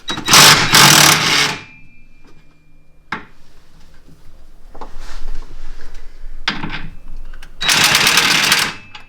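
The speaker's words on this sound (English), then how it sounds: "we're just going to take our 15 mil with this absurdly long extension and remove them" A ratchet or impact tool works a 15 mm socket on a long extension to remove sway bar bushing bolts on a Polaris RZR Turbo R, giving loud close bursts at the start and end with quieter clicking between.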